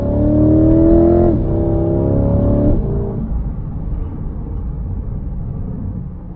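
A 2022 C8 Corvette driven in manual mode, engine note rising loud and close, then dropping sharply on an upshift, climbing again briefly before easing into a lower, steady rumble.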